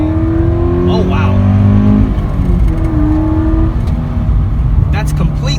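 Engine of a 2017 Toyota 86 sports car droning and climbing in pitch as it accelerates hard, heard from inside the cabin as a loud, steady rising hum, with voices talking over it.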